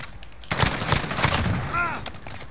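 Rapid automatic weapon fire in Call of Duty: Modern Warfare, loud sustained bursts against bots, with a faint voice under the shots.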